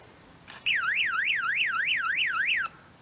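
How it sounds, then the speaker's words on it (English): A car's security siren from an aftermarket system tied to the factory alarm, a loud, close electronic tone sweeping up and down about seven times over two seconds, following a short burst. "it activates the lights, and also the factory alarm kicks in at the same time, and also ours kicks in with the horn"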